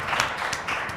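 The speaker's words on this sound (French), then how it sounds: "ça mérite des applaudissements" A brief burst of scattered clapping from a small audience at a Senegalese high school basketball match, a few distinct claps rising out of the room noise.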